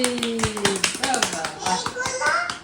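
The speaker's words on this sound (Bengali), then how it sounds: "হাততালি" Hands clap in a quick, irregular series of sharp, close claps at home, mixed with a child's and an adult's voices speaking over them.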